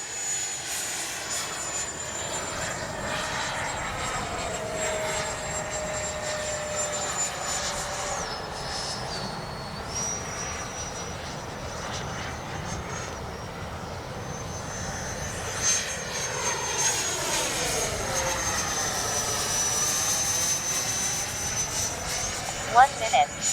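A Freewing 90mm F-15C RC jet in Gulf spirit livery flies overhead with a continuous high ducted-fan whine that shifts pitch as it passes and turns, loud and steady throughout.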